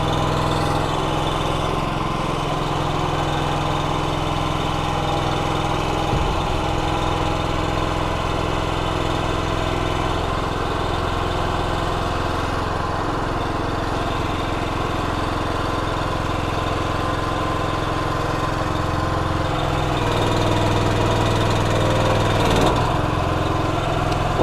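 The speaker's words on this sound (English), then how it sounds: "Go ahead and bring our dump body down the rest of the way." A dump trailer's engine-driven hydraulics steadily drone as the AM716-1600 body lowers, a constant close mechanical hum with no talking.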